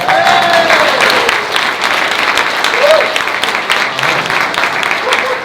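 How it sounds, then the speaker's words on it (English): Audience applause at a live housing-market meetup: dense, loud clapping from a crowd carries on throughout, with voices and cheers mixed in. "Can't give him a round of applause."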